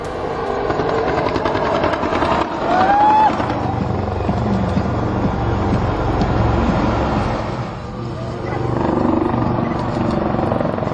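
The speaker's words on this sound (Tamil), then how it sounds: "அசாமின் கவுஹாத்தியில் பிரமிக்க வைத்த ஹெலிகாப்டர்கள் வான் சாகசம்." Indian Air Force helicopters performing an aerial display over Guwahati, Assam, thrum overhead in a steady, loud rotor drone that swells and fades slightly as they pass, with no talk.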